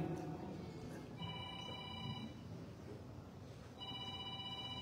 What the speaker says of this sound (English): lovely cell phone ringtones.